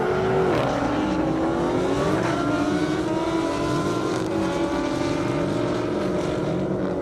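A Kawasaki drag racing motorcycle accelerates hard at an airport airstrip event, its loud engine whine climbing steadily in pitch through several gear changes, close and continuous throughout.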